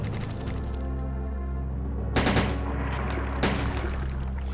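A couple of gunshots ring out during a Resident Evil 2 fight against clinging creatures, two loud sharp bursts over a constant low droning game soundtrack.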